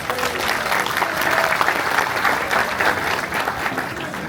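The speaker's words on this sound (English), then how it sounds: "Please welcome them with a round of applause." A crowd applauds steadily at a Tibetan community Trungkar celebration in Northern California, dense clapping filling the room at an even level throughout.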